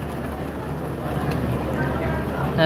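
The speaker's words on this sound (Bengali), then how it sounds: "আর পাগলা থেকে চলে এসেছে ট্রলার ইঞ্জিন চালিত ট্রলার" An engine-driven trawler boat arriving on the river at Sadarghat in Dhaka, its steady low motor drone running throughout under a continuous wash of waterside noise.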